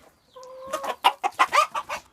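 Roosters cluck in a quick series of short, sharp calls, close by, after a brief high squawk at the start.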